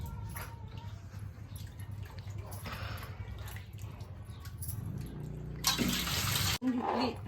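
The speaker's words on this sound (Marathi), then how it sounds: "नळ बघा चालूच नळावरून अख्खा दिवस पाणी चालूच असतं" A tap runs steadily at a village home after the water tank has been washed. The water makes a continuous rushing hiss, with a louder splash burst near the end and faint background noise throughout.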